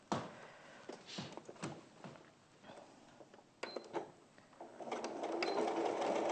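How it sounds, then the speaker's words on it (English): A sewing machine stitches a fabric piece into place in a quilting session, running in short start-stop bursts before settling into a longer, steady run at the end. "Onto there, and then just sew that piece on"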